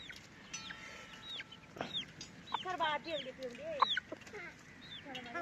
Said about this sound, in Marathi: पितीत आहे कोंबड्या पाणी